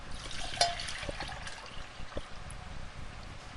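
Coconut kefir liquid poured from a spouted measuring cup into a jar, a steady close trickling and splashing stream with soft gurgles, continuous and fairly quiet throughout.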